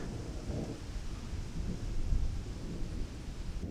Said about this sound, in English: With thunderstorm rolling in.